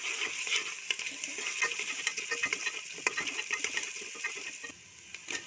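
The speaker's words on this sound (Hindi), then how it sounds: "अदरक लहसुन प्याज के साथ ये भून लेती हूँ मैं।" Onion, ginger and garlic fry in oil for chicken macaroni, a soft, close crackling sizzle broken by quick stirring taps and ladle clicks against the pan; no speech.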